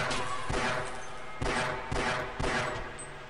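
Gunfire in the video game Half-Life, loud close shots in bursts about a second apart, each with a sharp crack and a lingering rumble beneath.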